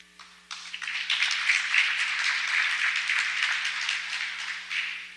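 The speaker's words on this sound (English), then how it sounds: "If we could hold the applause, I know you like these people up here" An audience at a candidate forum breaks into dense, steady applause that starts abruptly, holds for several seconds and eases slightly near the end, heard over a faint electrical hum.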